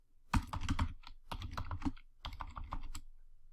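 An email address and password are typed on a computer keyboard during a software installation. The keys clatter in quick bursts with a short pause in the middle, close and fairly loud, with no speech.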